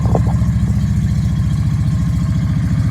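A Yamaha V Star 650 motorcycle engine runs alone at a steady idle, close and loud, with an even low rhythmic pulse and a couple of faint clicks early on.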